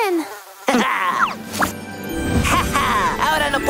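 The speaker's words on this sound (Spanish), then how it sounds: "¡Los mosquitos vienen de allí!" Insects buzz and whine close by, their drone rising and falling over a few seconds, with bursts of animated voices over them.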